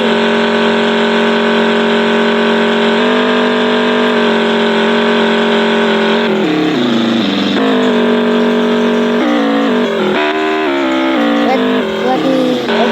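A motorcycle engine idles loudly and close, a steady tonal hum that rises and wavers in the second half as the throttle is blipped a few times, with no one speaking over it.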